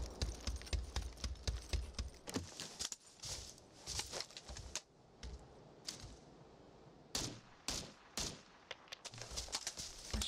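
Rifle shots from an M416 in PUBG, fired in quick bursts and single sharp cracks with several pauses, loud and close over a busy game backdrop.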